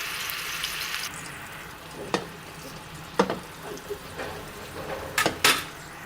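Chicken seekh kabab frying in a pan, a continuous close sizzle with occasional louder pops and utensil clinks.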